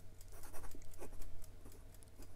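A 1952 Sheaffer Valiant fountain pen with a 14 karat gold fine nib writes on Clairefontaine 90 GSM paper, making soft, close, irregular scratching strokes in quiet surroundings.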